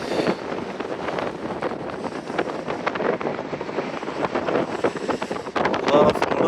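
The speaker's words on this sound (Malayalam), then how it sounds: "എന്താ കാറ്റ്, തണുത്ത കാറ്റ്." Cold wind gusts across the old Svinesund bridge on the Sweden–Norway border, a continuous rough buffeting roar against the microphone that swells and eases without pause, loud and close throughout.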